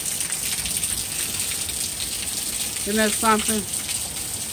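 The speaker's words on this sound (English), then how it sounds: "how hard that rain's coming down" Heavy storm rain pours off the side of a house in a steady, loud hiss that fills the whole stretch, and someone speaks briefly near the end.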